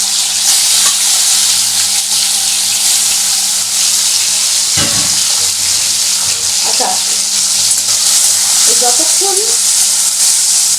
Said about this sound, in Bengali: এবার আমি ছেড়ে দিলাম চিংড়ি মাছগুলো।